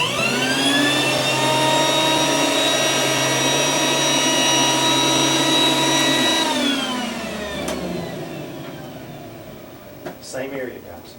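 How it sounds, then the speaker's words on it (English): A vacuum cleaner runs loud and steady with a high, whining motor tone, then winds down after about six seconds, leaving a quieter tail with faint knocks. "Tammy, how often do you vacuum really 3 times a week"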